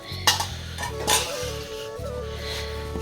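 Chicken going into gravy in a pot over a village wood fire, with a few sharp metallic clinks of a utensil against the pot over a steady low hum; no talking.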